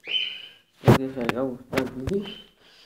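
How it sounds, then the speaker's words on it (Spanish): Birds in a home aviary with pigeons, giving a few close chirps and cooing calls, some overlapping, with short quiet gaps between them. "aquí está los pájaros"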